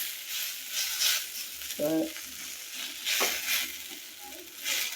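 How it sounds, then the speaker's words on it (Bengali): Potato bhaji frying in a pan in a village kitchen, a steady broadband sizzle running throughout with a few brief clinks and stirring scrapes, and a short word spoken over it. "তার জন্য একটু দেখাইলাম আলু ভাজি করাটা"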